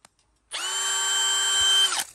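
A Ridgid R86116 cordless drill runs in hammer mode for a steady, close, loud burst of about one and a half seconds, then stops.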